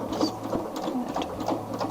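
An embroidery machine stitches a name onto a sweatshirt, giving a steady, rapid mechanical whirr with quick needle patter throughout, close and moderately loud, with no voices.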